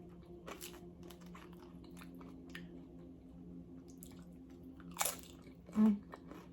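Someone eats loaded nachos up close, with quiet crunchy bites and wet chewing sounds spread over a few seconds, ending in a short hum of enjoyment.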